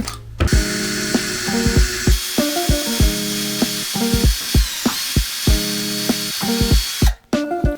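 Cordless drill driver, a budget Vitals model, boring with a 10 mm bit: loud close whine in short repeated bursts with brief stops between, revving up and down steadily without voices.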